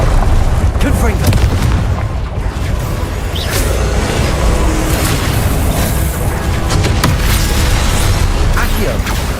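Confringo blasting spells explode repeatedly in the Hogwarts Legacy video game, a loud, continuous wash of deep booms and rumbling blasts with sharp cracks scattered throughout, while a voice talks over the action.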